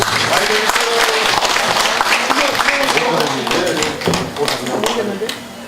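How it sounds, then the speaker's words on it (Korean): An audience claps warmly at a folk arts troupe's stage performance during an eightieth-birthday celebration, sustained applause from many people with a voice speaking over it, tapering off slightly near the end. "축원문을 여러분 큰 박수로 맞아주시면 좋겠습니다"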